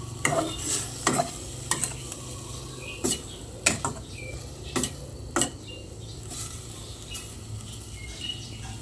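Spoon stirring bitter gourd and chicken curry in a pot, sharp scraping knocks every second or so over a soft bubbling sizzle, close and fairly clear with no talk.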